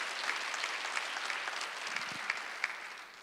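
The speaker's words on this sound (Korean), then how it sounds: "박수를 안 하세요." A church congregation at a Sunday worship service applauds, a steady wash of many hands clapping at a moderate distance, with a few sharper claps standing out.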